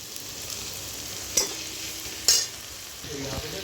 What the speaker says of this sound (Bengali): এই আদা রসুন বাটাটা আমি দিয়ে দেব। একেও আমি ভালোভাবে ভেজে নেব।